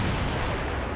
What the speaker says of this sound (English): we have a cannon that can take care of pesky,